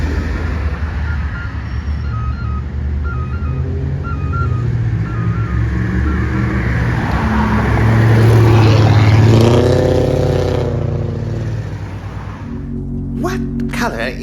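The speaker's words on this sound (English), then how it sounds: "Well, the bus is about to be here." Silver Line BRT bus in Grand Rapids pulling into a stop, its engine rumble swelling louder as it nears, with a hiss and clatter at the end as it halts; traffic noise runs throughout.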